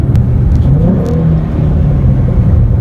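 A 2012 Ford Mustang 3.7L V6 with a JLT cold air intake revs with a deep, throaty rumble, steady and loud throughout, with a slight rise and fall in pitch.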